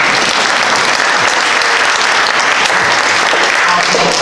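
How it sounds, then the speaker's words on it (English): Loud, dense applause from an audience at a township annual town meeting, a continuous wash of clapping that stays close and steady with a faint murmur of voices beneath it. "if everybody could clap for her"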